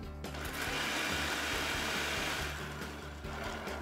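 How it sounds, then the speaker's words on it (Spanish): Oats, seeds, coconut and nuts are ground in a food processor, which gives a steady, loud whirring churn for a few seconds and then eases slightly near the end. "Entonces los voy a moler un poquitito."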